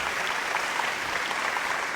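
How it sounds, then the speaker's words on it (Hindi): An audience at an Urdu poetry and award ceremony applauds steadily, a dense, even wash of many hands clapping that holds for a couple of seconds with no voices. "लिहाजा तालियां मैं चाहता हूँ भरपूर अंदाज से"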